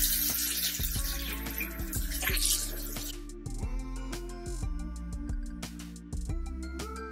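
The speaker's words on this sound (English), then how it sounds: "Alright, so now I'm just going to wash my face" Water runs from a tap while a face is washed with cleansing butter, a steady close rush broken by splashing and handling noises, with no talk.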